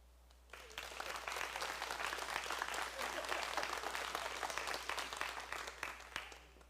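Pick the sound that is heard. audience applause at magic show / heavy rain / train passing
audience applause at magic show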